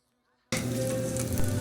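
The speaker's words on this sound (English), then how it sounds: "Add garlic and rosemary to the pan and let it cook for about 2 to 3 minutes." Garlic and rosemary hit a hot cast iron pan for steak and burst into a loud, steady sizzle that starts abruptly after a brief silence and crackles on without pause.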